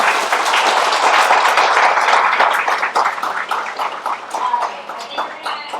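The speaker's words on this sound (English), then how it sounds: "Can we have a round of applause for James?" An audience at an education technology panel event applauds for a speaker, a steady, moderately loud wash of clapping that gradually thins out toward the end.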